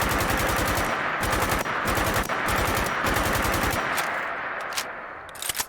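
Modded AKM rifle fire in Fallout 4 comes as loud, rapid automatic bursts of sharp, evenly spaced shots. A few closing single shots follow near the end.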